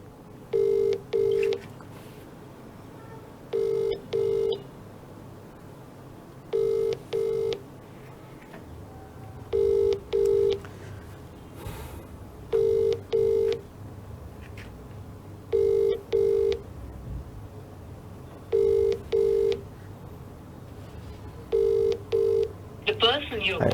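A call to a health helpline number rings unanswered, a repeating double-burst ring tone sounding about every three seconds, with a voice talking faintly underneath.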